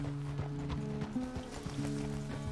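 Horse hooves clip-clop at a steady walking pace in Red Dead Redemption 2 while working at a ranch, rhythmic close knocks over a tonal game hum.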